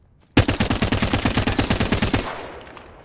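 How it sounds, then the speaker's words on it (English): Rapid automatic-sounding burst of Flatline rifle shots in Apex Legends, roughly twenty sharp evenly spaced cracks over two seconds, loud and close, followed by a short fading tail with no talking. "Single fire flatline."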